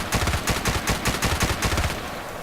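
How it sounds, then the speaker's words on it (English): FAMAS rifle in Battlefield Play4Free firing a fast string of about a dozen crisp, evenly spaced shots at close range, with no talking. "tap firing"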